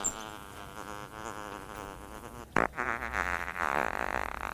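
Prank fart sounds in a comic compilation: a sustained buzzy, rippling blurt fills the clip, broken by a sharp burst midway, followed by a louder, rougher spluttering stretch to the end, all close and without talk.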